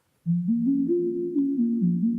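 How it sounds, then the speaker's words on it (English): A pure, mellow sine-wave tone from oscillator 1 at 16-foot pitch on a Studiologic Sledge synthesizer plays a slow melody of stepped low notes, smooth and steady with no talking. "Oscillator 1, sine wave, 16 foot."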